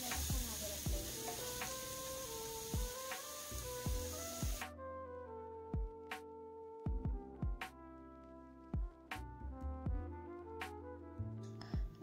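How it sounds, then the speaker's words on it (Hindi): Grated capsicum and onion frying in a pan for momos, a hissing sizzle at first that drops away, leaving sparse sharp clinks and taps of stirring against the pan. "अब जो कैप्सिकम हमने कद्दूकस किया था, प्याज, इन सभी को डालकर फ्राई करें"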